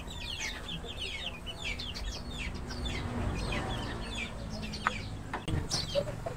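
Backyard chickens and chicks cluck and peep steadily at close range over a busy farmyard background, with brief louder squawks toward the end.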